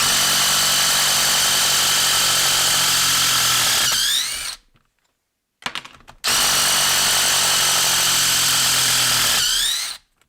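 Dewalt and Makita cordless power tools running at full speed, a loud steady high-pitched motor whine that winds down, stops for about a second and a half, then runs again before cutting off.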